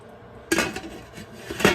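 A metal lid clatters onto a steam canner, a sharp close clank followed by rattling and a second clink, with no talking.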